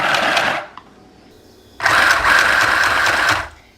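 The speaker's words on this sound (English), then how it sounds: "sew a couple of stitches back that way" A mini sewing machine stitching fabric runs in two bursts of rapid mechanical whirring, a short one and then a longer one, with a pause between them while the fabric is repositioned.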